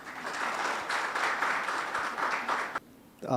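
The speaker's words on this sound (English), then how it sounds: "Please give him a big round of applause." A conference audience gives a speaker a round of applause at a fireside chat on cardiac leadership. The clapping is sustained and full, then cuts off abruptly as a voice begins to talk.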